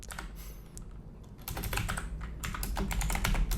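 Rapid typing on a computer keyboard, steady dense clicks of keys that grow busier and louder toward the end, with no voices.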